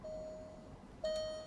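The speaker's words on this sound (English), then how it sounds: "There's one here that says buzzer. Let me try that." A ThinkScan 689BT diagnostic tool triggers a car's instrument cluster buzzer, giving a steady electronic tone that starts, drops out, then sounds again more strongly near the end, with no talk over it.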